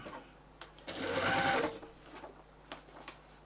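A sewing machine stitches a fabric bag in one steady, close burst of about a second, with faint clicks and handling noises before and after.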